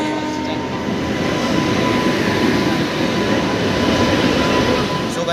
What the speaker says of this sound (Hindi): जो हमारी ट्रेन थी चित्रकूट एक्सप्रेस वो हमारी आ चुकी है प्लेटफॉर्म नंबर 2 पे